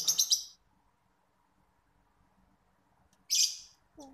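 Two short bursts of high, bright lovebird chirping, separated by a quiet pause, fairly close.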